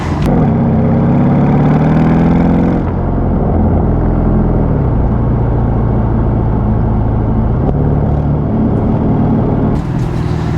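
Mercedes CLS63 AMG bi-turbo with its exhaust resonator deleted, driven in second gear: loud, steady engine drone with shifting pitch as the throttle lifts, giving way to a rumbling overrun with low booming, close and continuous with no talking.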